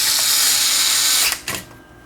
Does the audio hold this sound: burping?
no